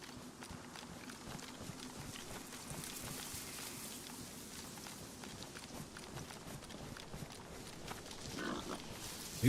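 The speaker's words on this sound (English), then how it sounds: "There's a pig here." Pigs in the DayZ game grunt and snuffle, a quiet, continuous run of rough grunts with faint trotting footsteps mixed in, close by and heard alone.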